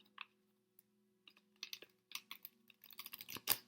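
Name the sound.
shuffling a deck of tarot cards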